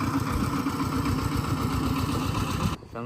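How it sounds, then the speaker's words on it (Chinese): A tractor engine runs close by with a steady, loud low chugging throb that holds for nearly three seconds, then drops away abruptly near the end. "拖拉机"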